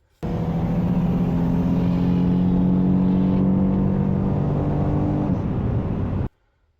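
A car with a ported intake plenum revs hard in second gear on a race track, a loud sustained engine drone held at high RPM for about six seconds before cutting off abruptly.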